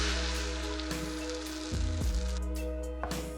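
French toast fries in a pan with a soft, steady sizzle and faint crackling, quiet and continuous, with a brief low thump partway through.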